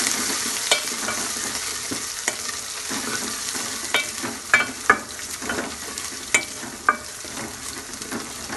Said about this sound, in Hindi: साथ में हम डाल देंगे अदरक लहसुन का पेस्ट। इसके साथ इसकी भुनाई करेंगे थोड़ी सी।